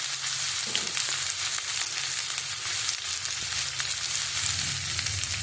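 Onions frying in a pan for a fish curry, a constant hissing sizzle with faint scattered crackles and a few soft stirring scrapes, steady and unbroken.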